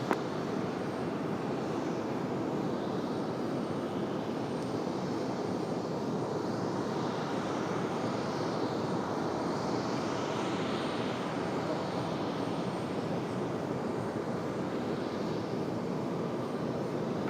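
A distant airplane engine at Raleigh-Durham airport gives a steady, broad roar for the whole stretch, with no clear change in loudness.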